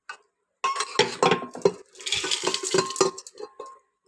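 Metal pot and utensils clatter and clink in quick, irregular bursts up close as dal is added to a pressure cooker, with short pauses between the knocks.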